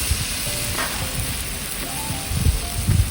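Tomatoes dropped into hot oil for a fish curry, sizzling and frying with a steady crackling hiss and some stirring scrapes, no talk.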